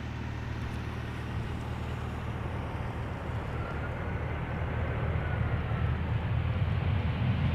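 A China Airlines Cargo Boeing 747 arrives at Amsterdam Schiphol, a broad, steady jet roar with a low rumble that holds at moderate distance and swells slightly toward the end, with no voices.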